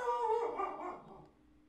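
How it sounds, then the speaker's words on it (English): A single dog barks close by indoors, one short loud bark-yelp trailing off quickly. "Do we just continue and pretend like he's not barking?"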